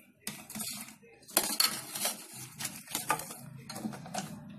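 Sugar-syrup-coated shakkar pare, fried sweet dough pieces, being scooped from one metal pot into another, giving soft scraping and clinking of a spoon against the vessel in short bursts, close and fairly quiet.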